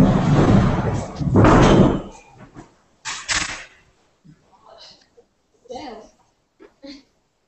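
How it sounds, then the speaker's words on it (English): A classroom door is pushed closed with a loud rumbling slide and a thud, then quieter knocks and clicks follow. Speech is heard around it. "I'm going to close the door over here."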